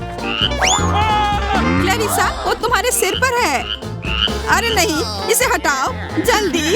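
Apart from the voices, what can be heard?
frog croaking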